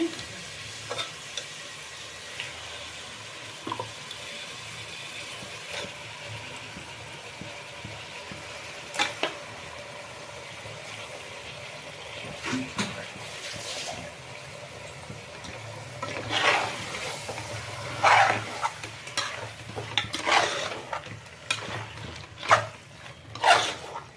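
Mutton goes into a cooker of masala and is stirred, with soft sizzling and frying under a run of scraping, clattering stirs that grow busier toward the end.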